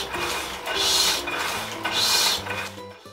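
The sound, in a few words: old printing press running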